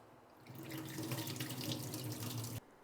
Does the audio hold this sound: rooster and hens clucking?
no